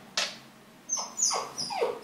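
A dog gives several short barks and yelps close by, spaced unevenly across a couple of seconds over a quiet background.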